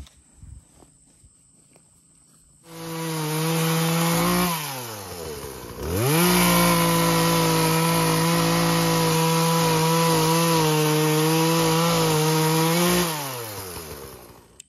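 A chainsaw roars at high revs while cutting through wood, dropping briefly to idle and then biting in again for a long, steady cut before winding down.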